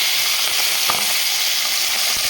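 Prawns sizzle loudly in hot oil in a pan, a steady, dense frying hiss with faint crackles throughout, close and with no talking.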